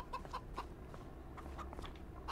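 Chickens in Farming Simulator 25 give a few soft, separate clucks at a steady pace over a constant low rumble of background noise.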